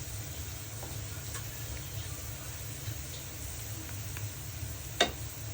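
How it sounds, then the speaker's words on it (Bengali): Onions fry in a pan with a soft, steady sizzle close by, broken by a few light clicks and one sharper knock near the end. "এই তো পেঁয়াজ ভাজা কমপ্লিট"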